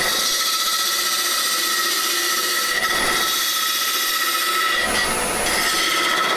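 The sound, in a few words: shear scraping wood on a lathe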